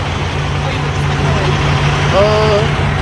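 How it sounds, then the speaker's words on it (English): A loud diesel truck engine idles steadily with a constant low rumble throughout while people talk nearby over it. "The engine is kind of loud"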